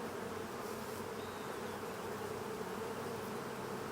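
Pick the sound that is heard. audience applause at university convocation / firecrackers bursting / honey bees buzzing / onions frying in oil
honey bees buzzing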